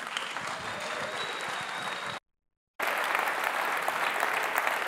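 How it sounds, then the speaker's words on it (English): A crowd at a Startup Grind Global 2016 talk claps steadily in sustained applause, dense and even, broken by a brief moment of total silence before the clapping resumes. "So a big round of applause for Selina."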